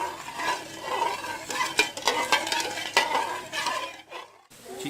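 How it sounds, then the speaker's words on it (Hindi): A spoon stirs sugar syrup in a pot, sugar for almond sharbat, giving a steady close scraping and swishing with a light bubbling sizzle underneath, briefly dropping away near the end. "आपने इसमें चम्मच को चलाते रहना है ताकि ये नीचे ना लगे"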